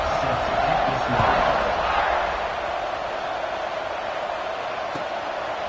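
A football stadium crowd at a Colorado versus Notre Dame game roars steadily after a touchdown drive, a dense, continuous wash of cheering that swells briefly near the start and then holds at a loud, even level.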